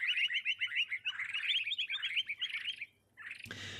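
Curve-billed thrasher call from a Minecraft bird mod set among desert animals: a rapid run of bright, chirpy whistled phrases lasting about three seconds, then a short pause and a sudden noisy burst at the end.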